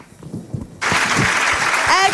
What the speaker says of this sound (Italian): accogliamolo con un forte applauso